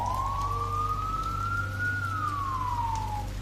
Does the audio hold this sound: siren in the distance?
yes